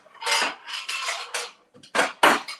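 Glass dish clatters and scrapes against cutlery and other kitchenware in a home kitchen as it is readied for the microwave, several close, bright bursts of clinking with short pauses between.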